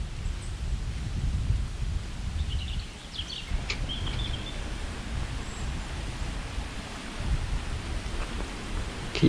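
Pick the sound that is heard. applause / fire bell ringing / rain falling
rain falling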